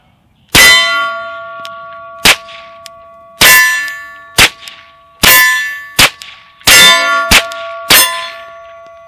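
Seven suppressed 9mm rounds through an AAC Ti-Rant 9M silencer, alternately striking a dirt berm and ringing steel targets; loud sharp cracks at uneven intervals, several followed by bright metallic clangs that ring and decay.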